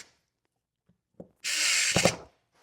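A HOTO 3.6 volt cordless electric screwdriver set to high drives a screw tight: a brief click, then a close, steady whirring buzz for about a second that strains and cuts off.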